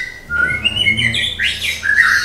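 A caged oriental magpie-robin sings loudly and close, a rapid run of bright whistles, chirps and slurred notes shifting in pitch, with brief harsh squawky phrases near the end.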